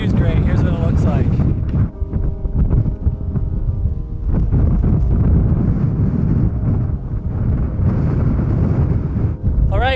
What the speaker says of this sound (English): It's windy as hell, but the view's great.